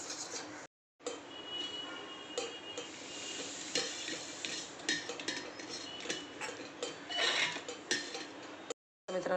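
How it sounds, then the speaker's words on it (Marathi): Spoon stirring dhokla batter in a bowl just after water and Eno are added, a busy scraping, clinking churn running steadily with brief pauses, close and fairly loud, no voices. "तर आता परत मिक्स करून घेते."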